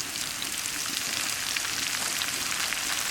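Ingredients added bit by bit to hot oil for a homemade burn ointment crackle in a dense, loud, continuous sizzle, steady throughout with no talking.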